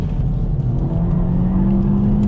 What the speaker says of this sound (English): A little bit of tire squeal, but despite the tire squeal, it grips pretty well.